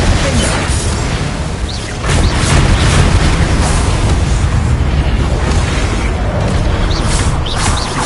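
Incendio and Expelliarmus spells are cast in rapid succession in Hogwarts Legacy, producing dense, loud fiery bursts and crackling blasts that roar continuously, with a brief dip before a heavier surge.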